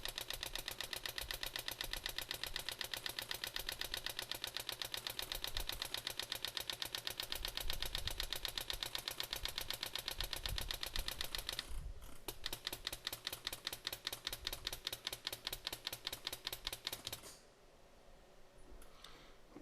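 Pneumatic engraving handpiece on a pave setting job buzzes in a steady, rapid mechanical chatter, loud and close, briefly shifting mid-cut for a deeper second pass before dropping off near the end.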